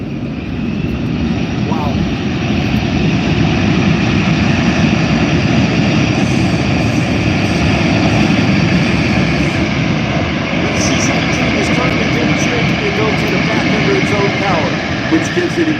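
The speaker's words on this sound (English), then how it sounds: "You'll notice those thrust reversers deployed on the engines." A military cargo jet lands at an airshow with thrust reversers deployed, giving a loud, sustained roar of engine noise that fills the whole stretch, with someone talking over it.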